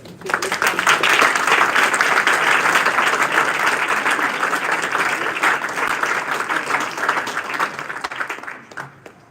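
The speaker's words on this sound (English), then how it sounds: "This was very, very close, so please give a round of applause." An audience at a moot court competition gives a sustained round of applause, dense clapping that swells quickly and then gradually fades away.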